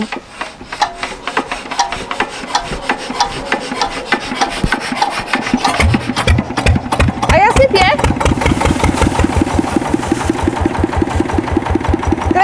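A small engine powering a pre-1945 mechanical grain mill starts with irregular cranking and rasping sounds, then settles into a steady, loud running chug alongside the mill's grinding, with people talking throughout.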